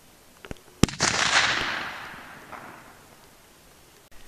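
A single 45-70 rifle shot fired at a target 100 yards away outdoors, a sharp crack followed by a broad, fading boom that rolls off over about two seconds, with a few faint clicks before it.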